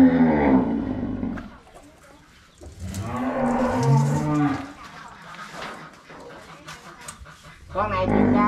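Cattle on a Vietnamese farm lowing in long, deep moos, close and loud, one at the start and others through the middle and end, with someone talking between them.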